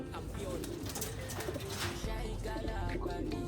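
Soft racing pigeon cooing close by, with chirps and rustling in the background and a person speaking quietly over it.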